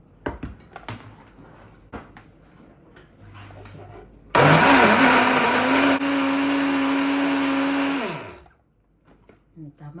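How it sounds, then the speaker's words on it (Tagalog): An electric blender starts abruptly and whirs loudly for about four seconds, its whine rising slightly before it winds down and stops; faint household knocks and a distant voice come before and after. "blender"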